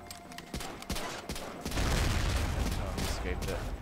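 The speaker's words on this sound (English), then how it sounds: "Let's throw a nade." Grenade blast in an Xbox shooter game set in wartime with Japanese-style grenades, a loud boom opening into sustained rumbling gunfire and explosions over about two seconds, with voices talking through the din.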